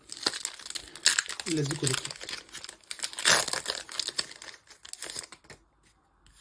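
Packaging of a Christmas gift box is unwrapped and opened, with close crinkling, tearing and rustling of plastic and cardboard in uneven bursts while a person speaks briefly.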